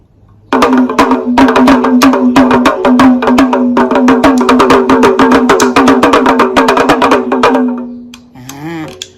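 A Thai pong paeng folk-toy pellet drum twirled rapidly, its strings striking the drumhead in a dense run of sharp, rattling strikes in quick succession for several seconds, then slowing and fading out.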